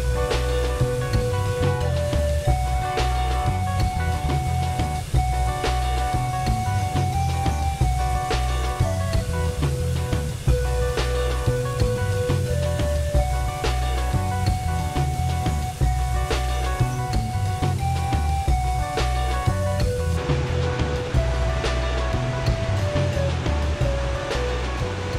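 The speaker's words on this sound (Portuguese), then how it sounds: "O volume da água que cai chega a ser hipnotizante." Apongual waterfall in Roraima, about 110 metres tall, pours into a river pool with a constant, dense roar that never lets up, while steady tones run underneath throughout.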